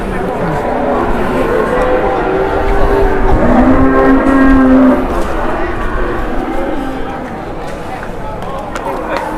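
Cattle lowing at Pasar Ambarawa livestock market, a couple of drawn-out moos rising over a busy background of crowd noise and nearby voices talking.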